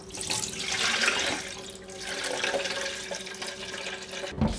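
Tap water runs steadily into a sink while flour dough is kneaded and rinsed to wash out the starch for seitan, a close, continuous splashing rush that swells and eases with a brief clatter near the end.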